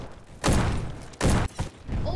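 Gunfire from the online shooter Bad Business, two loud bursts of rapid shots about a second apart with a quieter burst at the end.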